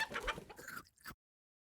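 Chicken clucking in the Super Auto Pets video game, a short burst of several quick clucks, close and clear, ending abruptly in silence.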